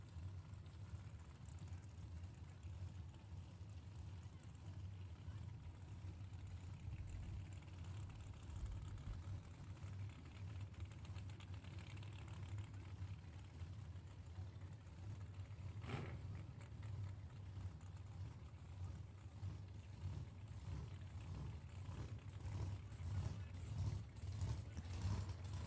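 B/Gas nostalgia drag race cars at an NHRA Hot Rod Heritage Series event give a low, steady, distant engine rumble throughout, with a brief mechanical clatter midway and slight swelling near the end.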